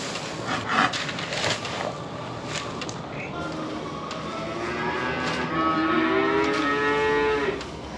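Cattle on a farm moo repeatedly at their morning feeding with silage and grain, long drawn-out calls rising to a loud, close low moo near the end over steady barn background noise.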